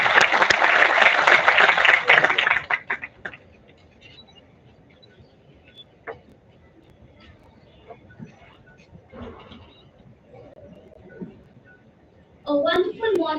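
Audience applause at an MBA induction ceremony swells loud and dense for about three seconds, then fades to a quiet hall with scattered small noises before a voice begins near the end.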